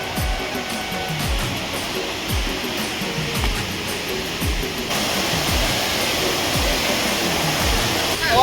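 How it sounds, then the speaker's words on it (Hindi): Dhaskund waterfall in Mahasamund, Chhattisgarh, heard from just below the falls as a steady, dense rushing roar of falling water. The roar holds loud and even throughout, with rhythmic thumps that could be footsteps underneath. "फाइनली में हम पहुंच चुके हो धसकुंड वाटरफॉल के जस्ट नीचे साइड"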